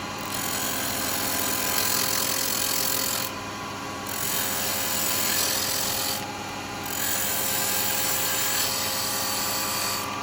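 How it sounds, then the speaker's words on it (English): Spindle gouge truing up wood spinning on a lathe, a steady loud rasping scrape that runs continuously, dipping briefly twice as the cut pauses. "all I'm going to do is true them up. Okay, and so I'm just going to use a spindle gouge."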